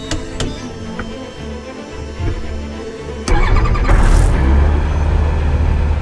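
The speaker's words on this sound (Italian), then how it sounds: "Adesso abbiamo messo in moto," Light aircraft engine starting before a first flight: a few quiet clicks and cranking, then a sudden catch into a loud, steady idling roar that stays running to the end.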